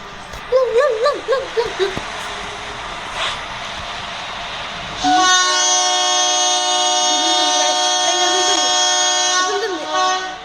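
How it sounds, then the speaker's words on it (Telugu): Someone talks at first, then a loud train horn blares in one long sustained tone while the voice continues faintly underneath. "ఇప్పుడు ట్రైన్ కదులుతుంది గైస్."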